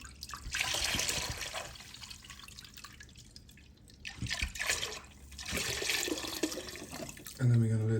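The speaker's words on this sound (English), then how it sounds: "So I've got 4 liters of diesel, and then I'm going to add 4 liters of ATF to it." Diesel fuel and automatic transmission fluid are poured into a container to soak a stuck carburetor from a Yamaha XT500. The liquid pours steadily in two long stretches, fairly close and moderately loud, with a brief sharper sound at the very end.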